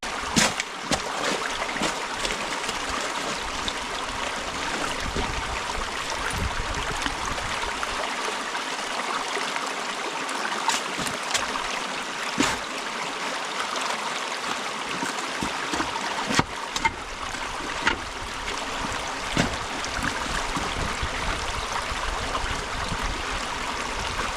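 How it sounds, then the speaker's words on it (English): Creek water rushes through a narrow passage at a remote Outback forest gold-prospecting site, a steady close broadband wash with occasional splashes and knocks. "There is a very narrow passage of the water flow here."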